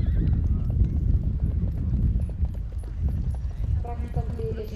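A brown horse at an Icelandic riding show in Hafnarfjörður clip-clops at a steady gait, with continuous hoofbeats, a whinny in the background and an announcer talking over it.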